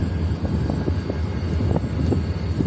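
The Tezgam Express rolls into a station platform with a low, steady rumble and rhythmic clanks of wheels over rail joints, heard from nearby without voices.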